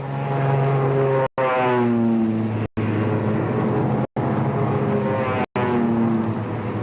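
Several warplane engines drone loudly with shifting, rising and falling pitch, cut by brief silent gaps, no voices present, as enemy planes close on an American aircraft carrier.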